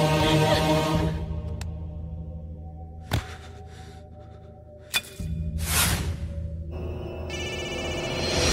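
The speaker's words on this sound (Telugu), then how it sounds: "ఫోన్ ఎత్తడేట్రా." A telephone ringing unanswered in a Telugu film scene, repeated electronic ring tones broken by sharp whooshing hits and abrupt cuts, with no speech.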